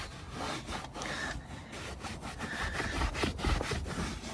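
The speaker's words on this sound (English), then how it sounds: "you can take your microfiber, as before, as you would usually, just wipe that clean" Microfiber cloth wiped across a car seat, giving close, rhythmic rubbing strokes at a moderate level with short pauses between passes, no voices.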